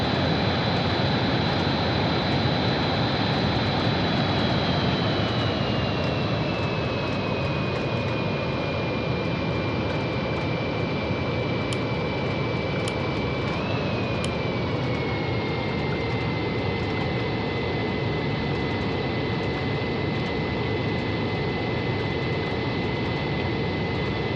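Jet engines of an Airbus A350-1000 taxiing to the gate after landing, heard from inside the cabin as a steady, loud whine and broadband roar whose tone drops slightly partway through.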